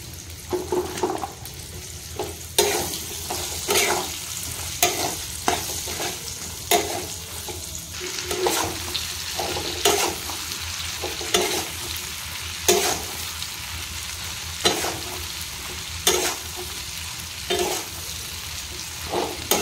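Bitter gourd pickle ingredients frying in hot oil, with a steady sizzle broken by regular scraping stirs every second or two, close by and without talk.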